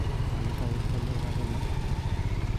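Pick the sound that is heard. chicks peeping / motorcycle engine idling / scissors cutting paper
motorcycle engine idling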